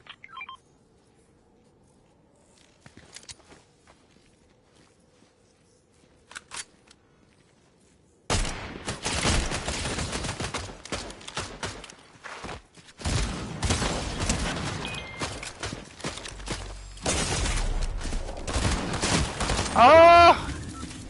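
Gunfire in the video game Fortnite, a few faint shots at first, then loud sustained bursts of rapid shooting with sharp impacts, and a voice speaking between the volleys.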